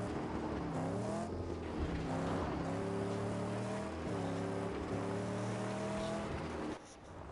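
Damaged car engine in the Mad Max video game drones and rasps with rough, wavering revs that climb and settle in uneven surges, a gritty mechanical growl running continuously for several seconds before dropping away.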